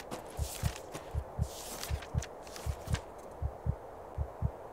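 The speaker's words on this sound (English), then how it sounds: "Oh no, the heartbeat's stuffed up." A faint, muffled heartbeat pulses in the video game When the Light Dies, steady lub-dub pairs repeating about twice a second under a soft hiss and occasional brighter clicks.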